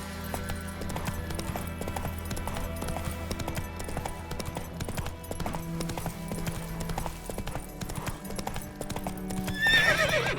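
Roach the horse gallops steadily in The Witcher 3, with rhythmic hoofbeats clopping over the game's ambient background and a neigh near the end.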